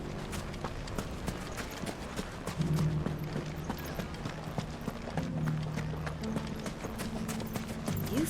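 Horse hooves clip-clop in a steady, brisk rhythm in Final Fantasy 16, close and continuous under a low in-game music bed, with no voices.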